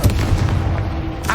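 The Confringo spell explodes in Hogwarts Legacy with a short, heavy boom and a booming low rumble, loud and close, with no talk.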